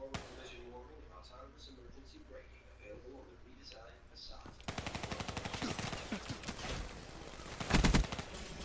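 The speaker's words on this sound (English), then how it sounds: "It only takes a couple of shots and your person's dead." Rapid bursts of automatic gunfire in the Call of Duty video game, loud and dense in the second half with a heavier volley near the end, after quieter game sounds and voices at the start.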